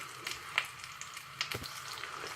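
Onions hitting hot oil in a pan for kefta tajine, a soft steady sizzle with a few small crackles and pops, close and on its own.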